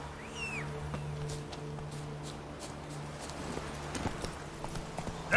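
The horse Roach walking in a video game, a faint, steady clip-clop of hooves under a continuous low hum of game ambience, with no talk.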